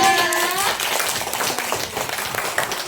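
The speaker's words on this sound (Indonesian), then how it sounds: "Ya, kita beri tepuk tangan untuk kelompok 3." Classroom students clap for a student group after a presentation, a brief patter of fairly soft hand claps following a short voice at the start.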